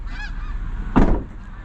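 Geese honk once or twice at a distance, a brief nasal call rising over steady outdoor rumble.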